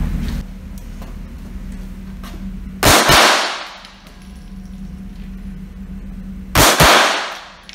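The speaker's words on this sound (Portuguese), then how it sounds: "o competidor realizou os disparos com o uso da cobertura" Two loud, sharp gunshots, a few seconds apart, ring out over a steady background hum as a competitor fires from cover during a defensive shooting drill.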